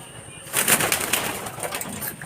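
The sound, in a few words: pigeons cooing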